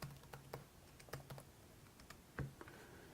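Keys clatter on a computer keyboard as a command is typed at a drone setup command line, with scattered, irregular taps and one heavier keystroke, quiet and close, with no talking.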